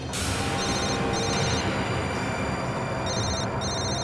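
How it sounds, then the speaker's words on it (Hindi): A telephone rings in repeated bursts of bright electronic trilling over a constant noisy background hiss, with short pauses between rings and no talking. "फोन उठाओ"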